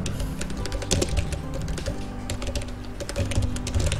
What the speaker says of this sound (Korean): ESC 눌러주시고 ESC 두 번